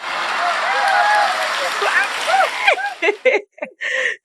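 A church congregation applauds and cheers after a baptism, steady clapping mixed with whoops and shouted voices, fading into a few scattered claps at the end.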